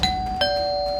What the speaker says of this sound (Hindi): इतनी रात को कौन बेल बजा रहा है?